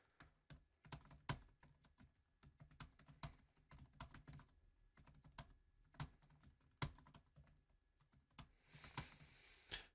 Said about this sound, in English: Don't you love my pretending to be a student typing?